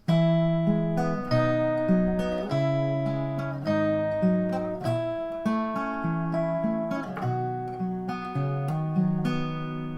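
Strummed acoustic guitar chords ring out in a steady C to G6 to G progression from a song, each change struck clearly and left to sustain, played alone without any talking.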